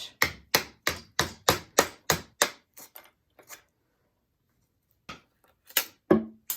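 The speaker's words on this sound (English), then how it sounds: "We come in with the chisel and we knock these out." A chisel knocks out wooden pieces from a handmade toy tank: a rapid series of sharp wooden knocks, about nine in steady rhythm, then a pause and a few more scattered strikes, close and fairly loud.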